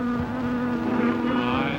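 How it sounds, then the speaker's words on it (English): A bee buzzes in a steady, continuous drone close by, holding a strong tone throughout with slight wavering, heard in an old 1947 film scene without speech. "Oh, there's a bee."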